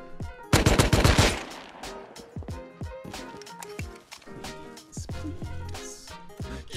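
Gunfire in a survival video game as a player is shot down, with a dense rapid burst early on and then scattered sharp single shots, all close and loud.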